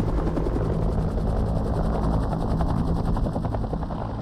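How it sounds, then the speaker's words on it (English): Bell Huey helicopter flying with a loud, steady rotor thump and engine whine, a rapid rhythmic chop sustained throughout, close and unaccompanied. "And one ship, more than any other, shoulders the load. Bell Helicopters Huey."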